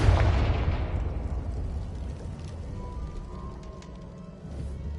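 A Confringo blasting spell explodes in Hogwarts Legacy, a loud booming burst up close that rolls off into a long, rumbling decay with faint debris crackles.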